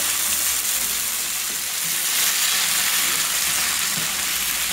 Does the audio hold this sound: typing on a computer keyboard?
no